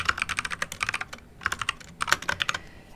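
Someone types code for an Arduino project in C++ on a computer keyboard: dense, fast, close-up key clatter in uneven bursts with a brief pause near the middle, no voices.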